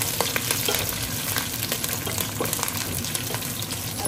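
Onions fry in a pan as green chillies go in, giving a dense, steady sizzle with scattered crackles and pops, close and continuous, with no voices.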